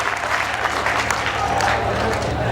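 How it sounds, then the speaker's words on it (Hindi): Audience applause fills a poetry gathering at a kavi sammelan festival, a dense, steady wash of clapping from a crowd held at even loudness for a few seconds. "आप सारे लोग मेरे कहने से उनका सम्मान करें ताली बजाकर,"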